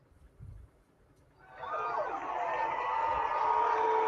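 A crowd cheering and roaring, played as a sound effect in an artist's studio, swelling in after a brief quiet start and holding loud and steady to the end.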